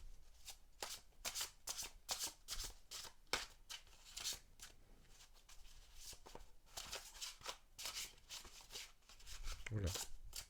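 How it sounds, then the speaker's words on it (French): Tarot cards being shuffled by hand, a quick series of soft riffling and slapping bursts at close range, with brief pauses between handfuls and a faint low thump near the end. "Allez, on va remélanger là."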